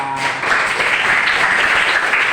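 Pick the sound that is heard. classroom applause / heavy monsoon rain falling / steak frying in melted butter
classroom applause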